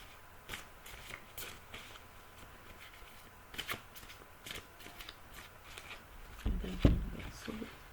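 Large yellow rainbow-colored cards being shuffled by hand for a ten-card reading, giving soft repeated riffling and flicking sounds, close and fairly quiet, ending in a few louder slaps.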